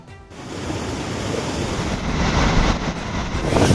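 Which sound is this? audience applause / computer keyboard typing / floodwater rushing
floodwater rushing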